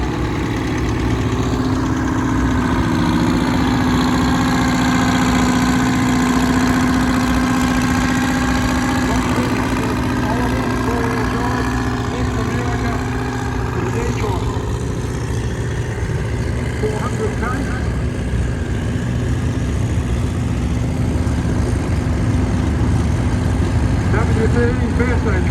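Old American tractor, a 1020 at a wheat and wheels rally, idling with a steady low rumble for the whole stretch, as people talk over it and other engine noise hums in the background.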